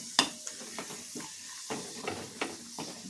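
Garlic frying in a pan, a soft sizzle under repeated scraping and stirring strokes with a spatula, close and fairly quiet, no talking.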